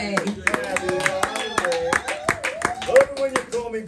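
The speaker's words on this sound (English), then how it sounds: "let's give another round of applause to all the gentlemen of Nama" Scattered crowd clapping for the gentlemen at a Father's Day men's legends event, sharp uneven claps under ongoing talk and background music.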